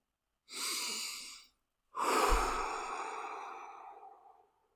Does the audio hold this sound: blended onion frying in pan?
no